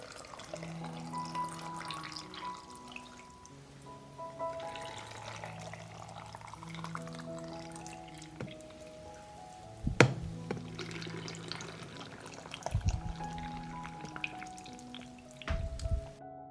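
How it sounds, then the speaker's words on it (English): Water is poured from a kitchen vessel into glass jars packed with peppers: faint trickling and filling sounds with rising tones, a few sharper knocks and clinks of glass, quiet and close with no talk. "I pour water into each jar to cover the pepper"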